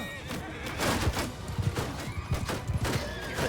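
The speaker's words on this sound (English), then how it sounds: "Get these horses out of the way." Horses whinny repeatedly over a battle scene in the Mount & Blade II Bannerlord video game, with loud clustered bursts and thuds, while a man gives commands over it.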